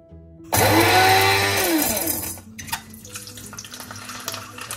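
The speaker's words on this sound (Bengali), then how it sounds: "এবার আমি এই পুরো মশলাটাকে গুঁড়ো করে নেব।" An electric grinder whirs loudly for about two seconds as it grinds a whole spice mix for mutton dak bungalow, then stops abruptly, leaving faint kitchen clatter.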